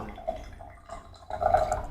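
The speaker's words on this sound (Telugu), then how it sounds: "ఇప్పుడు నేను ప్యూర్ జెల్ ఆల్కలైన్ వాటర్ వేస్తున్నా" Pure gel alkaline water is poured or dripped into a container, giving faint, close liquid trickles and a few soft drips in a quiet room.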